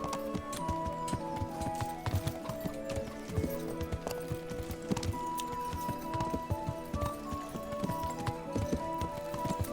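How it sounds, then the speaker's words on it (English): Horse hooves clip-clopping at a slow walk in the medieval video game Kingdom Come: Deliverance, steady rhythmic hoof falls over game ambience and background music. "My horse literally cannot go any slower."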